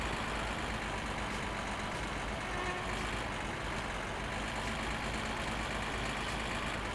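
Car engine in the video game My Summer Car while driving fast on country roads, a steady loud drone with a deep rumble that holds constant throughout, with no talking.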